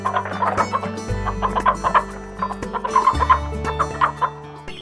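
Guinea fowl give a busy stream of rapid, scratchy clucking calls, fairly close, over a steady low musical drone.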